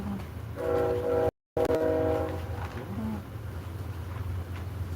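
A train horn sounds a sustained chord for a couple of seconds, broken by a brief dropout, over the steady low rumble of a passing train that carries on through the clip.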